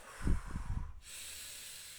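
A single deep calming breath, slow and close, drawn in and then let out with a soft airy rush, followed by a steady low hiss of room noise.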